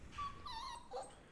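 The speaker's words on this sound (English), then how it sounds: "Yeah, that's my dog." A dog whines in short, high, wavering whimpers, a couple of thin yips rising and falling over about a second, faint and somewhat distant in a quiet room.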